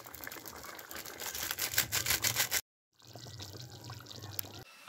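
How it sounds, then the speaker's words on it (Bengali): Black cup fish curry in an oil-and-chilli gravy poured from a pan, a close, wet sloshing pour running steadily for a few seconds, then a brief silence and a softer second stretch of pouring and scraping. "মাছ ঢেলে নিচ্ছি বন্ধুরা, মাছের তরকারিটা।"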